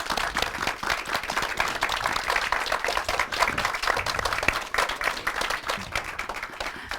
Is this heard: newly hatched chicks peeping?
no